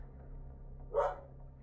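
A single short dog bark sounds at a distance, faint and muffled over a quiet low hum of room noise, and nothing follows it.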